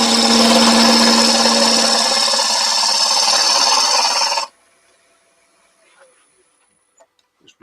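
A woodturning tool cuts a cherry branch spinning on a lathe, giving a loud, steady whirring and cutting roar that stops abruptly partway through, leaving near-silence with a few faint clicks.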